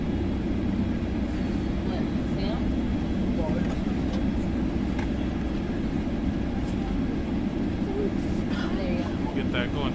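Steady low roar of an A320neo's auxiliary power unit spinning up on the ground before a flight, a constant broadband drone with faint whine above, heard alongside cabin talk.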